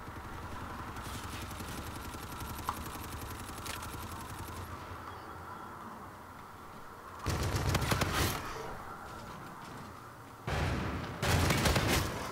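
Submachine gun fire in Call of Duty: Infinite Warfare, heard as short loud bursts of rapid automatic shots that rise over a steady background of game noise and ambience, with no talking.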